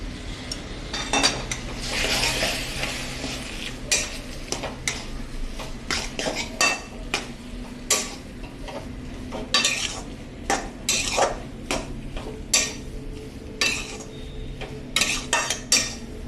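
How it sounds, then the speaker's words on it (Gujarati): Spoon scraping and clinking in a pan as semolina is stirred with saffron-infused milk for modak, steady rhythmic clatter of metal on cookware close up, with no talking. "બધું બરાબર મિક્સિંગ કરી લેશું."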